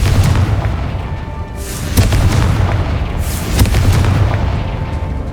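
Confringo spell explosions in Hogwarts Legacy on PS5, several heavy booming blasts in succession, each with a sharp crack and rumbling tail, loud and close over a constant low rumble.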